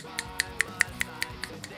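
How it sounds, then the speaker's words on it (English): Seven or eight sharp finger snaps in an even rhythm, made behind a microphone, crisp and moderately close with no talking. "I'm snapping my fingers behind the mic"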